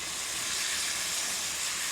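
Vinegar reducing in a pan with pancetta gives a constant, even hiss of bright sizzling, close and steady with no breaks.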